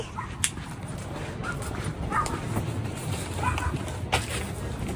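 A puppy gives a few short, high yips and whimpers at intervals, fairly faint against outdoor background noise at a neighborhood garage sale.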